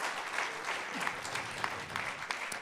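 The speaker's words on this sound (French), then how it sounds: "Sous vos applaudissements" A seated audience at a round-table event in Marseille applauds an ambassador's introduction, soft steady clapping heard from a distance at low level.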